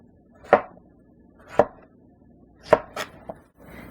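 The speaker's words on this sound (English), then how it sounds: "Next, let's cut up the vegetables. Cut it into the same size as your beef chunk." A knife chops vegetables into beef-sized chunks for a Chinese beef tomato stew, four or five distinct, crisp thuds on a cutting board spaced about a second apart, close and clear with quiet between strokes.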